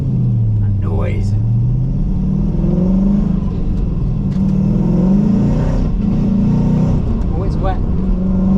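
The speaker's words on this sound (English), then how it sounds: "That's a beautiful thing about a V8, just all that torque, especially the LS." Throaty GM LS V8 swapped into a Mazda RX-8 accelerating onto a wet highway, a steady deep engine rumble rising in pitch, loud and close from inside the car, with brief speech over it.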